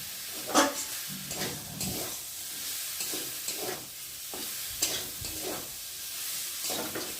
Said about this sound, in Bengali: আর একটু ভালো করে নেড়ে কষিয়ে নিই